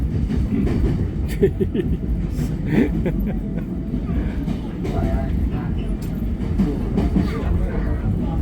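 A sleeper train runs on rails in Vietnam with a steady rumbling, continuous low roar and faint rattling, close by and loud throughout.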